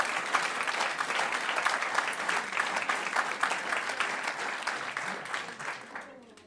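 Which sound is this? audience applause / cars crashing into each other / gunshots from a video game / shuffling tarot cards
audience applause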